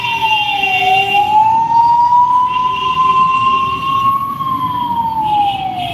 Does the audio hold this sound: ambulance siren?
yes